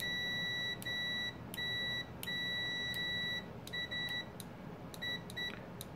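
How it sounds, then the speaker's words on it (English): A multimeter in continuity mode, tested with Probe Master test leads, gives a series of high beeps of uneven length that keep cutting in and out as the connection makes and breaks, with no talking. "let's see how these probes behave when I plug them into my latched Anang meter and just try the continuity"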